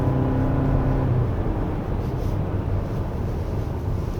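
A 2026 Hyundai Palisade with a four-cylinder 2.5 turbo gasoline engine and AWD pulls hard on a winding road, a low engine drone with a brief rising harmonic whine at first, then road and wind rumble settling in.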